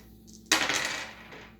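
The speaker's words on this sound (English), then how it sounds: "Now he has to roll the dice." Dice roll during a board game, giving one sharp rattling clatter onto the board that quickly fades, close and alone in a quiet room.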